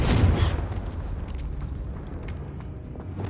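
A Confringo fire spell in Hogwarts Legacy erupts with a loud, booming burst at the start, then fades into a sustained rumbling roar for the rest of the clip. No voices are heard.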